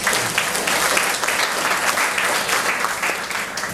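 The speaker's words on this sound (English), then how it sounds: "So once again, give them a round of applause." An audience at a class of 1977 reunion gives a round of applause, steady dense clapping throughout the short stretch with no voices standing out.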